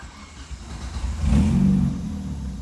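A car engine run by a garage-built standalone ECU cranks on the starter and catches, swelling into a brief mid-pitched rev before settling to a steady idle, close up with no talk.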